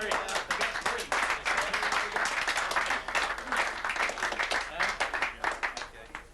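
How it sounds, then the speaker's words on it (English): Applause and clapping from a crowded mission control room, dense and steady throughout, with voices mixed in beneath the noise. "Hey, now you clap"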